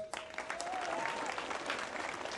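Spectators applaud the coaching staff of a football club at its first training session: steady, moderately distant clapping from a crowd filling the whole moment, with a faint tone at the start.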